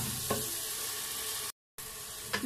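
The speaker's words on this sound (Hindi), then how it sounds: "इसको मिक्स करके भुनाई करेंगे जब तक कि टमाटर गल नहीं जाए" Tomatoes and spices frying in oil make a soft, steady sizzle with a couple of faint stirring scrapes, cut by a brief silent gap partway through.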